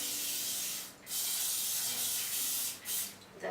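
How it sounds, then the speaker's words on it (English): Cooking oil spray misted into a cake tin being greased for a chocolate sponge: a steady close hiss lasting several seconds, broken by two brief pauses between sprays, with no voices. "Use a spray, or even you can simply apply oil."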